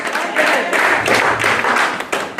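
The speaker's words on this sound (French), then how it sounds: "applaudit le Seigneur" A church congregation in Tampa, Florida, clapping for the Lord, a loud, dense round of many hands in a roughly steady rhythm that swells and holds, with voices mixed in beneath.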